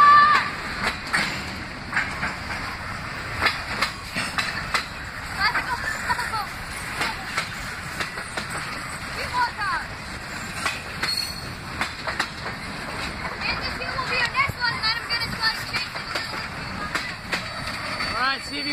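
Freight train boxcars on a WSOR local roll steadily past at close range, with wheel squeal and rhythmic rail clatter throughout, while a person speaks briefly over the passing cars.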